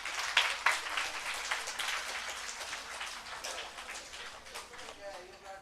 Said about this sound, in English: More claps than Tulika.